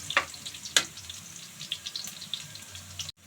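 Garlic and onion sauté in a pan for chicken adobo, a crackling sizzle with sharp pops and spatters near the start, then lighter irregular crackles before cutting off abruptly.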